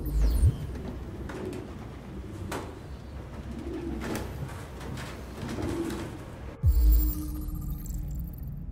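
Pigeons coo softly and repeatedly in a game scene from Detroit: Become Human, with a couple of dull thumps near the start and end and no talking.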